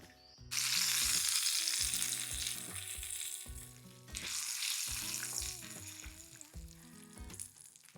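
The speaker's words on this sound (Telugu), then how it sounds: "తాలింపు వేసుకోవడమే పైన" Spices for tempering crackle and sizzle in hot oil in loud bursts that rise and ease off, with soft music playing underneath.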